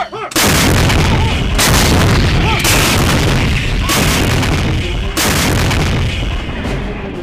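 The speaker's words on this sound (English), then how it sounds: "we're still bombarding them now" Artillery bombardment from a war movie: a run of loud, close booms and heavy blasts about every second or two, filling the soundscape with rumbling aftershocks between hits.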